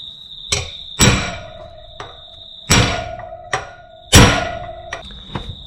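Hammer tapping a wheel bearing into a dirt bike hub: about seven sharp metallic knocks at an uneven pace, a few hard, ringing blows among lighter taps, close by with no talk.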